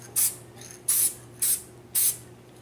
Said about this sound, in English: we're going to take a little bit of the spray here